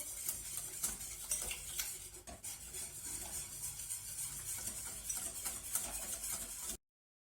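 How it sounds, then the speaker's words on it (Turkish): Flour is whisked into a pot of red lentil soup, a steady run of light scraping and tapping strokes against the pot that carries on without speech for about seven seconds before stopping abruptly. "Dolu bir yemek kaşığı unum var. çırpıyorum."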